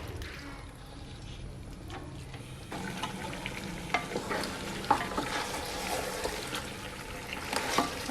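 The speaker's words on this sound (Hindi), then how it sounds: "अब इसको अच्छे तरीके से भूनेंगे, बाकी मसाले वगैरह डाल के।" Beef paya frying in about a cup of oil in a pot, sizzling softly while a spoon stirs and scrapes, with sharper clinks and bursts of crackle growing livelier toward the end.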